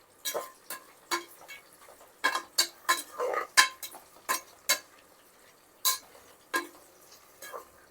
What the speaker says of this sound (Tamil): ஆனியன் நல்லா வதங்கி வரணும்.